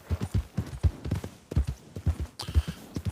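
Horse hooves clip-clop in a video game, a brisk irregular run of hollow knocks from several horses, close and fairly loud, with a soft rattle near the end.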